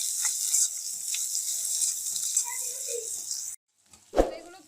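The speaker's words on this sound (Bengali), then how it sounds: "তো এগুলো একটু হালকা ভেজে নিতে হবে।" Chopped onions, cardamom, cloves and bay leaf fry in soybean oil for ghugni, a close, steady crackling sizzle that cuts off abruptly, followed by a single clunk.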